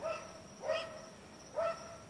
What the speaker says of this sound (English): off in the distance, beyond those barking dogs